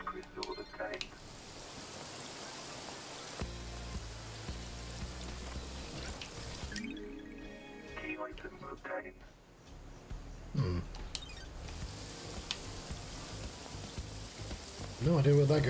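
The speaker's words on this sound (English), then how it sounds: "Oh, it's raining." Rain falling in the video game Paradise Killer, a continuous hissing patter of drops that shifts as the scene changes, heard alongside game music and someone talking over it.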